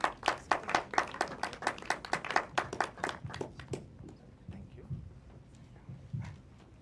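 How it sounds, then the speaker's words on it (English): Scattered audience clapping in a half-empty cinema at a preshow event, a few loud close claps in an uneven rhythm that thins out after about four seconds, leaving low murmuring. "A lot of applause for Mr."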